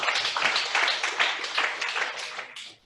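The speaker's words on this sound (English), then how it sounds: "So let's clap for ourselves for that." An audience at a closing session of a forum on crisis and displacement claps together, a dense burst of applause that fades out after a few seconds.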